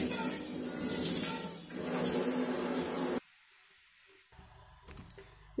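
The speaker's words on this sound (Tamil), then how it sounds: "இதை வாஷ் பண்ணிடலாம்" An oil vessel, freshly scrubbed, rinsed under a running tap: loud steady water spray for about three seconds, then the flow stops and only faint clinks and handling noises remain.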